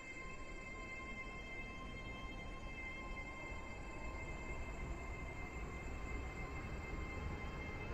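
A Class 801 train runs in the Stepford County Railway video game, giving a steady, unbroken rolling rumble with faint high tonal whines over it, alone and without talk.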